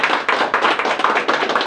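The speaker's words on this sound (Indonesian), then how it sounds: "Tepuk tanganlah dulu sama Tuhan" A church congregation claps together in a brisk, steady rhythm, about a dozen sharp claps in quick succession, loud and close, with no talking over it.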